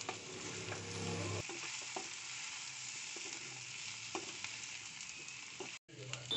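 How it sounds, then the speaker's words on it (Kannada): Potato and okra for a dry aloo bhendi curry, stirred in a pan with roasted gram flour: continuous close sizzling with scraping, stirring strokes and occasional clinks, no talking. "5 ನಿಮಿಷದ ನಂತರ ಬೆಂದಿರುವ ಆಲೂಗೆಡ್ಡೆ ಬೆಂಡೆಕಾಯಿಗೆ ಹುರಿದಿಟ್ಟುಕೊಂಡಿರುವಂಥ ಕಡಲೆ ಹಿಟ್ಟನ್ನು ಹಾಕಿ ಚೆನ್ನಾಗಿ ಮಿಕ್ಸ್"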